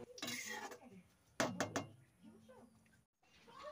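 Ghugni, a pea curry, poured from a pot into a bowl: a few clanks and scrapes of metal cookware and utensils, with a sharp knocking cluster midway and a person talking between the sounds.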